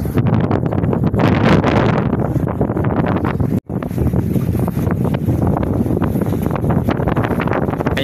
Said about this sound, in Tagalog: So ngayon malakas pa yung hangin, pati agos.